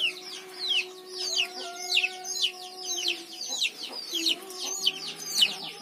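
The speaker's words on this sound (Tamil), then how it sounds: "தக்காளியில இருந்து எல்லாமே என் கோழிகள் வந்து ஃபுல்லா கொத்தி சாப்பிடுவாங்க." Chickens fed vegetable scraps such as tomatoes, clucking in a continuous busy chorus of close and overlapping calls, with a steady low hum running beneath.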